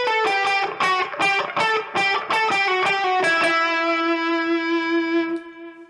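A distorted, effected electric guitar repeats the opening phrase of a riff, a quick burst of picked notes that settles into a long ringing held note, played alone and up close.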